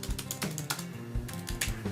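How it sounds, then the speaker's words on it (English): Keys clatter on a computer keyboard in quick, uneven bursts of clicks, close and fairly quiet, with no voices. "And so if I start typing here,"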